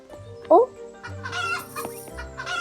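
A chicken gives a loud, abrupt clucking call over a busy background of low hum and faint voices.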